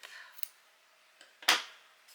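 Scissors snip through yarn during punch needle work on a cat design, giving a few short, crisp, quiet cuts spaced apart, with one louder final snip.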